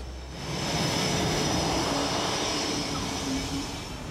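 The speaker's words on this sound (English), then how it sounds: "And we fly the CF-18 Hornet." CF-18 Hornet multi-role fighter and ground attack jet, A model, its engines giving a steady, loud, broad roar at some distance that swells in and holds throughout.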